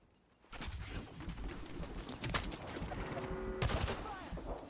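Rapid bursts of weapon fire in the video game Apex Legends, sustained crackling volleys at moderate distance running for several seconds, with a sharper spike near the end and no voices over the shooting.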